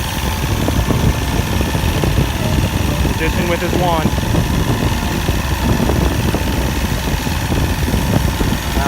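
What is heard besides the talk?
boat outboard motor idling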